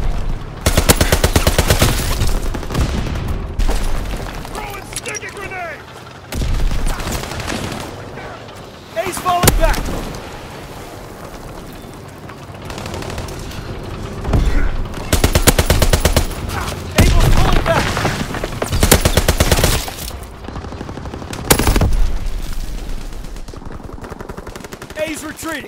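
Call of Duty WWII gunfire during a war-mode operation: loud, dense bursts of rifle and machine-gun fire rattle almost nonstop, close to the listener, while voices shout over the battle.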